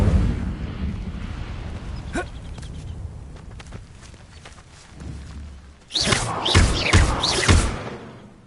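A burst of crackling flame from the Incendio fire spell in a Hogwarts video game, arriving suddenly and loudly near the end after quieter thuds and footsteps.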